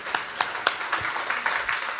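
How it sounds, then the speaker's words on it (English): Scattered claps at a Wincon 2023 conference thicken into steady audience applause for Michael Bryce, fairly close and even in loudness across the two seconds. "Let's give a round of applause to Michael Bryce"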